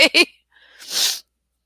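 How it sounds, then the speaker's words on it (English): A short burst of voice followed by a single loud, breathy sneeze, close up and otherwise quiet. "I don't know why I've got sniffles and sneezes"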